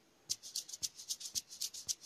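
Shaker and triangle percussion loop programmed in Caustic 3 for an amapiano beat: crisp, bright repeating hits in a steady rhythm, about ten evenly spaced accents over two seconds, close and moderately quiet with no voices.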